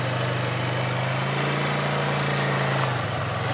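A Kayo 180 quad ATV engine runs close by with a steady buzzing drone, holding revs before easing off toward the end.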